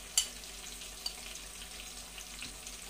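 Chopped ginger goes into hot oil for fried rice over a raised gas flame, giving a faint, even sizzle with a sharp tap at the start and a light knock midway.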